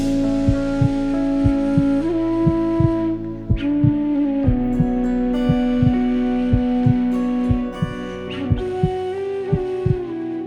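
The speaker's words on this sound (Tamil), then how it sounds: "என்னோட இதயம் துடிக்கிற சத்தம் உங்களுக்கு கேட்டுச்சா?" A steady, regular heartbeat thumps loudly and close up, with evenly spaced low beats running throughout over a sustained musical drone.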